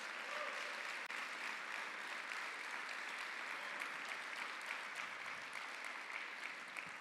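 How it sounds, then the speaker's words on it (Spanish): A church congregation applauds in a steady, dense wash of clapping that holds at an even level throughout, with no break or swell. "Dele un fuerte aplauso al Señor entonces."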